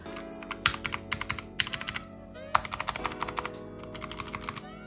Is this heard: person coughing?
no